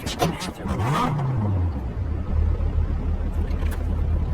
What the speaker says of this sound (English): That's a nice engine startup.